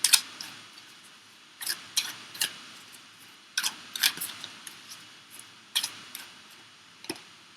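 Tarot cards shuffled and drawn, a run of sharp papery flicks and snaps arriving in small clusters with short pauses, close and fairly quiet, with no talking.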